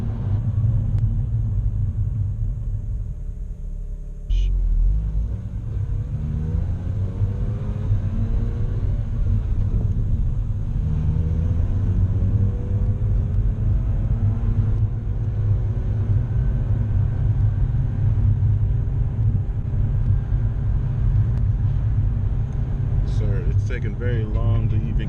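A car engine rumbles loudly and steadily inside the cabin, the low drone rising in pitch as the vehicle slowly accelerates, with a faint voice briefly over it.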